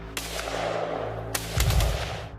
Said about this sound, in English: That is where we start hearing gunshots.